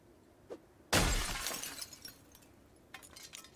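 Glass window shattering in the Project Zomboid survival game, a sudden loud crash at about one second that tails off into scattered tinkling shards, preceded by a faint tap and followed by a few light clinks.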